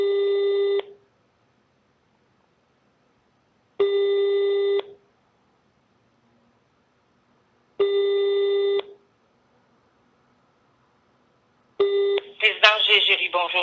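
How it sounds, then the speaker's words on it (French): Rings of a telephone line on an outgoing call to a retirement home: three evenly spaced tones about a second long with pauses between, then a fourth cut short as a voice answers. "soit appeler cette maison de retraite."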